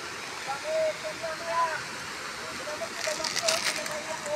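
The Sabsaban Falls waterfall sends a steady broad rush of water through the whole stretch, with faint birdsong and a brief spike of splashing near the end.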